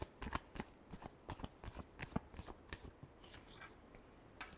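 Tarot cards being shuffled by hand in a final shuffle, a quick run of dry papery riffles and taps, close and fairly quiet, with no voice over it.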